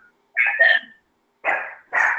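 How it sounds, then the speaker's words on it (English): Dogs barking outdoors on pastureland at grasshoppers, three loud separate bark bursts with short pauses between them, close by. "The crazy dogs are barking at the grasshoppers again."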